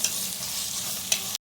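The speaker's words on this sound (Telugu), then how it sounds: "2 spoons of ginger garlic paste వేసుకొని ఆ జింజర్ గార్లిక్ పేస్ట్ కూడా గోల్డెన్ బ్రౌన్ కలర్లోకి వచ్చే వరకు ఫ్రై చేసుకోవాలి" Ginger garlic paste fries in hot oil with a steady, close sizzle and a brief stirring scrape, ending abruptly after little more than a second.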